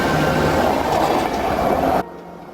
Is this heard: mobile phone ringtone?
no